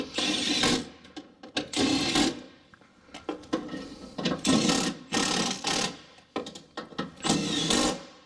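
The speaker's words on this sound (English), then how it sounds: "I'm just going to tighten it back up." Ratchet tightening the bolts on a Ford E-Series blower motor: repeated bursts of rapid clicking close up, each lasting about a second with short pauses between strokes.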